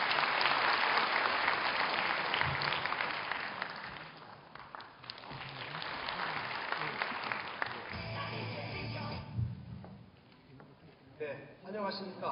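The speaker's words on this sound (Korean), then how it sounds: "박수로 맞아주시기 바랍니다" Audience at a 2010 university entrance ceremony and orientation applauds the student council president, a dense, sustained round of clapping that thins toward the end as murmurs and a voice come in.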